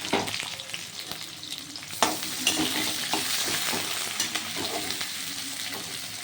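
Onion frying with garlic in an oiled pan, a close, continuous crackling sizzle with stirring scrapes and occasional sharper spits, no voices over it.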